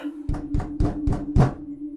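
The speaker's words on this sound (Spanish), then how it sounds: "como si hubieran golpeado brevemente una puerta metálica" Five short, evenly spaced knocks strike a metal door in a morgue, each a brief dull thud over a steady low hum, fairly close and alone.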